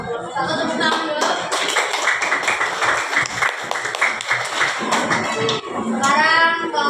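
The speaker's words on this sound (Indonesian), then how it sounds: "Kelompok 1 tepuk tangan dulu." A group of students claps together in a classroom, a brisk burst of hand claps lasting several seconds, with children's voices and chatter around it before and after.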